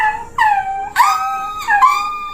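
A human voice imitates a dog howling in pain after being hurt, giving several loud, close, wavering whimpering howls that rise and fall in quick succession.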